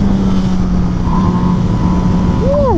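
An MV Agusta Brutale motorcycle pulls hard, its engine a loud, steady roar with a rising whine that is heard up close over rushing wind noise.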